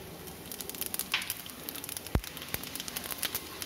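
Mustard seeds frying in hot oil, heard as faint, irregular crackling and popping, with one sharper pop partway through.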